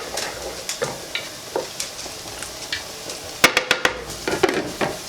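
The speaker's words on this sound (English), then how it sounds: "I need to put this on really high heat. Okay, and then the peas and carrots are still in there. Give it a stir once in a while." Peas and carrots fry on high heat in a pan, a steady soft sizzle punctuated by repeated light scrapes and clinks of a utensil stirring, with a brief quick cluster of knocks near the end and no talking.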